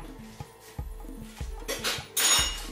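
A little spoon clinks and taps against a pan of buttered chicken sauce, several light metallic knocks at an uneven rhythm, close and fairly quiet, ending in a brighter scraping clatter.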